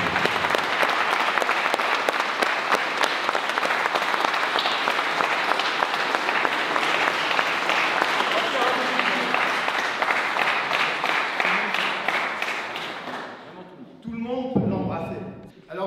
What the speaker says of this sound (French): Je vous demande vraiment de l'applaudir